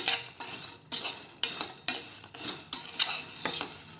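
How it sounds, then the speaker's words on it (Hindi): Cloves and black peppercorns are lightly roasted in a pan and stirred with a utensil, giving repeated scraping clinks and rattles at an irregular, steady pace, close and clear with no voices. "5-10 लौंग और 15 से 20 काली मिर्ची लीजिए। इन सबको हल्का सा रोस्ट करेंगे"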